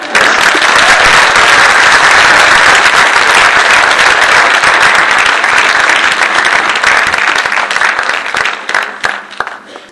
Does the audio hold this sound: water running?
no